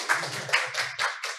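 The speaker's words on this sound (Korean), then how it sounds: "박수 쳐주세요." Audience clapping at a climate tech mini-conference, a short patter of a few hand claps heard close up in uneven bursts over about a second and a half.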